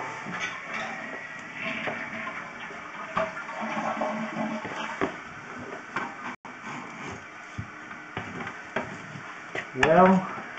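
Water runs down a sewer clean-out pipe in a steady rushing trickle that stays fairly constant, then swells into a louder splashing surge near the end.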